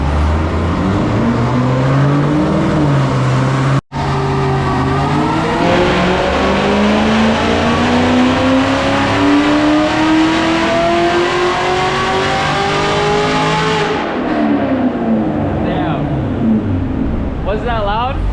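A turbocharged car with a Roto-Fab Big Gulp intake, running super rich, is revved hard on a dyno: a loud, close engine roar climbs steadily in pitch through a long pull, cuts briefly once, then drops away to idle.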